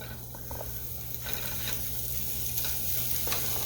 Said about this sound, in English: what I'm going to do first is I'm going to put the sausage in here.